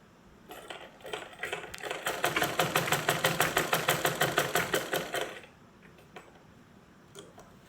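A sewing machine stitches fabric to join two garment panels, running in a steady rapid burst of evenly spaced needle strokes for about five seconds, close and fairly loud, then stopping.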